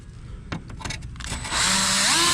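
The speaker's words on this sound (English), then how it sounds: "Get your drill," A power drill bores through a Cadillac CTS V3 side skirt, its motor whine starting abruptly after a few light taps and holding steady and loud, rising slightly in pitch near the end.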